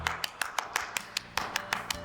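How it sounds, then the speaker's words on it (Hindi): Clapping for a children's shadow puppet show: about ten crisp, evenly spaced hand claps in a steady rhythm, close and fairly soft, with no voices over them. "चलो हमारे सभी शैडो के पपेट्स के लिए जोरदार तालियां बजाते हैं"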